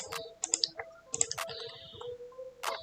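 Keys on a computer keyboard are tapped in short irregular bursts of crisp clicks, close and fairly quiet, with brief pauses between clusters.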